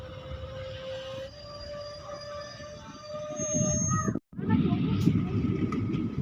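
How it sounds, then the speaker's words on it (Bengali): A passenger train pulls out of Mallikpur Hat station on the Malda Town to Balurghat line, a steady rumble with a long horn-like tone, a brief dropout, then louder rolling noise. "আমাদের ট্রেন ছেড়ে দিল মল্লিকপুর হাট"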